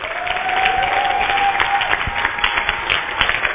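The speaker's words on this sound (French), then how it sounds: "Non, acclame bien pour Dieu." A church congregation claps and cheers steadily at worship, a dense, sustained wash of applause filling the room with a voice and sustained tone faintly underneath.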